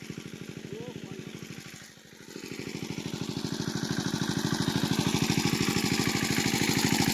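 A motor-driven pump drains a pond for fishing, its engine thumping loud and close in a fast, even pulse that holds steady for the whole stretch, with a faint voice briefly beneath.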